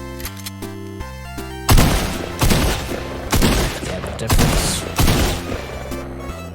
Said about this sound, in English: I'm just going to shoot around and find out where the best spot to hit this guy is